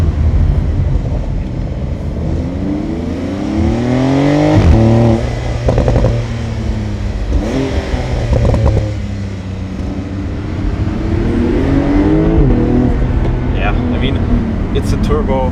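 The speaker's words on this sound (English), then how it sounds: "It's a turbo, it's an all-wheel drive, rear wheel steer monster, and it has a huge amount of grip." The engine of a Porsche 992 Turbo, an all-wheel-drive, rear-wheel-steer car, drones steadily from inside the cabin on a Mallorca mountain road, rising and falling in pitch as it accelerates, with someone talking over it throughout.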